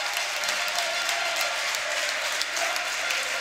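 Steady applause fills a basketball arena as a player leaves the court during a game between Scauri and Napoli, a dense, even wash of clapping with no clear voices on top.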